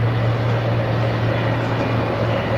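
A light airplane taxis on the ground in reconstructed flight audio, its engine giving a steady, loud propeller drone with a constant low hum throughout.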